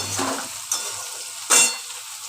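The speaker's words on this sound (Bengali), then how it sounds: "সব দিয়ে নাড়াচাড়া করছি একটু নাড়াচাড়া করে" Spoon stirring potato, pointed gourd and parshe fish curry ingredients with salt and turmeric in a sizzling pan, with scraping strokes and a sharp clink near the end, close and fairly loud with no talk.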